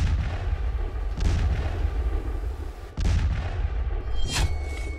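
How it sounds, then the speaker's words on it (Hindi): Artillery and gunfire on the Pakistan-Afghanistan border: heavy booms and sharp reports ring out against a constant loud rumble, with a couple of distinct blasts standing out, distant and reverberant, with no voices. "बॉर्डर पर गोलीबारी"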